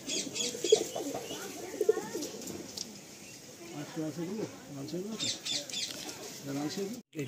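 Kalanka racing pigeons from one loft coo softly in repeated low bursts close by, while someone talks over them.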